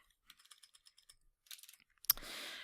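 Light, quick keystrokes tap out a document title on a computer keyboard, about a dozen soft clicks in an uneven rhythm, ending with one louder key strike and a short hiss.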